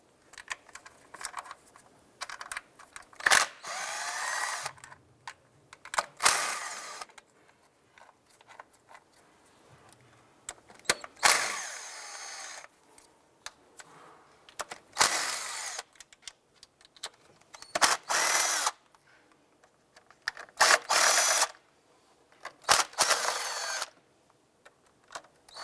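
A power tool buzzes in short, separate bursts while removing 8mm valve cover studs around the perimeter on a 2001-2007 Ford Escape, with quiet pauses and small clicks between each run.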